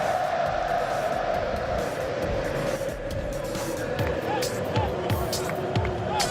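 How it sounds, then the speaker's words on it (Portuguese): Corinthians supporters roar and cheer in a packed stadium at a 6-1 Brasileirão 2015 win over São Paulo, a steady distant crowd wash under a commentator's voice, with a few louder swells and claps. "E hoje tem essa reação da torcida, ó."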